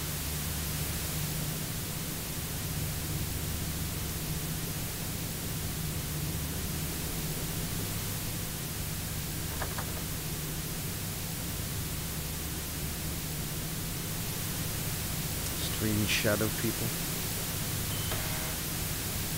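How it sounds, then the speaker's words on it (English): Steady hiss of static noise fills the whole stretch in the Nightmare House 2 horror game, loud and continuous, with a short burst of brighter crackle near the end and a few words spoken over it. "What's with the static? It's like static noise."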